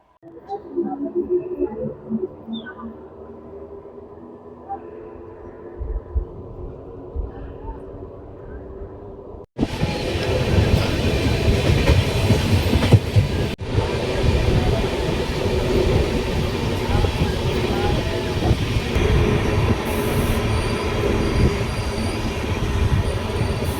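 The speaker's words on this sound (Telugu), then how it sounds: "ట్రైన్ అయితే బయలుదేరుతుంది గుంతకల్ లోపలికి" A train departing a station towards Guntakal rumbles loudly and steadily, with metallic rolling and faint wheel squeal, the noise swelling abruptly partway through as it gets moving.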